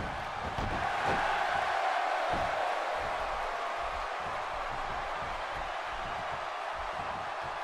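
Crowd noise from an arena audience in the wrestling video game WWE 2K16, a steady, loud wash of cheering and roaring that holds throughout, with a few faint voice-like bursts mixed in.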